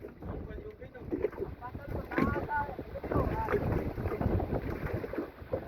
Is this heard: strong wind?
yes